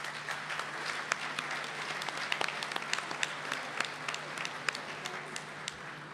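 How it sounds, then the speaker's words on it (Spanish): Steady audience applause fills a lecture hall at a talk on media and dictatorship in Bahía Blanca, many hands clapping densely and evenly for several seconds without a break. "También pedimos un fuerte aplauso por él."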